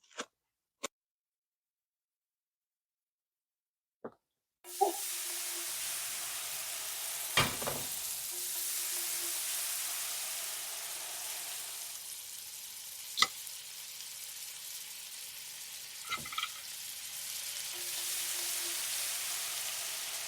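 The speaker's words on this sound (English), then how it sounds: "we'll put them on the grill, crisp up the edges some" Sous vide steaks sear over hot coals on a grill, a few clicks and taps before a sudden, steady hissing sizzle that carries on under occasional sharp snaps and metallic clinks, with no talking.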